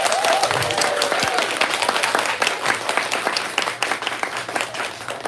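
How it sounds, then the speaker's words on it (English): Audience applause fills a bookstore author event, a dense steady wash of many hands clapping throughout, loud and close, with a few brief voices and cheers mixed in. "I actually think you should clap louder than that"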